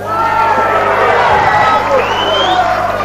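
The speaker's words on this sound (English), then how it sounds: "The crowd at fever point here." A karate tournament crowd cheers and shouts in a sustained loud roar of babble and whistles, with a commentator talking over it.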